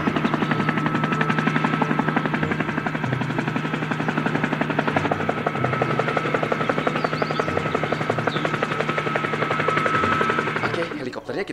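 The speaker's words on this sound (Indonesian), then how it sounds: "Ini adalah helikopter." A toy helicopter's spinning rotor gives a continuous loud buzzing whir at a steady rapid pulse for about eleven seconds. It sounds close, with no talk, and cuts off abruptly at the end.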